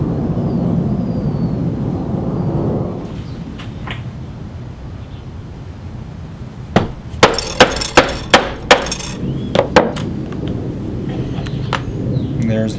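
Hammer striking a punch through leather to make a rivet hole in an appendix carry holster for a Kahr pistol: about seven sharp, loud blows in quick succession, then a few lighter taps, after a stretch of low background sound.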